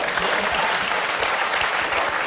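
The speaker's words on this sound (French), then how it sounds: "je vois pas pourquoi ils applaudissent à un propos, même pas grivois" Dense, steady audience applause from a studio crowd during a French television interview, continuous and fairly loud for the whole stretch with no talk over it.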